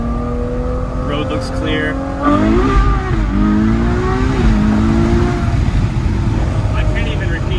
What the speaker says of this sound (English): Pure, naturally aspirated Ferrari V12. First gear